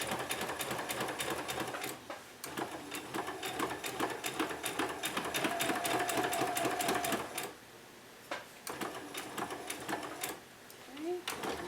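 A home sewing machine stitches homemade protective fabric masks, running in close, rapid bursts of mechanical stitching that stop and restart, with brief pauses between runs.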